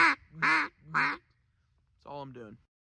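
Duck call blown in short, clipped quacks: three quick nasal bursts, a pause, then a softer doubled quack, each note cut off abruptly rather than drawn out, close and clear.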